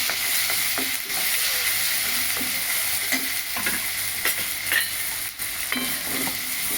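Onion-garlic masala with turmeric and ginger-garlic paste sautéing in a pan for capsicum and potato bhaji, a constant sizzle broken by rhythmic spatula strokes scraping and stirring.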